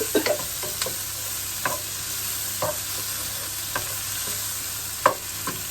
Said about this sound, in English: There you go, carrots are in. Oh, sizzle, sizzle, sizzle.